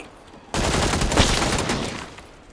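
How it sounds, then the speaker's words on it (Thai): Gunfire in the video game PUBG, a sudden loud burst of rapid automatic shots that starts abruptly and continues for about two seconds before trailing off. "เมื่อกี้มันยิงกันเองเหรอทีมเราหรือไง"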